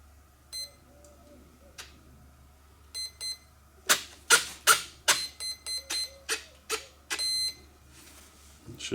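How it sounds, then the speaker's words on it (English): A series of electronic beeps from an RC speed plane's ESC during calibration, a few sparse tones at first, then a quicker run of short, sharp beeps close by, ending in a longer tone. "wait for some beeps."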